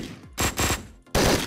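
Bursts of rapid gunfire in the video game Hotline Miami 2 crackle in short volleys, three quick clusters of shots with brief gaps between them, fairly loud and close.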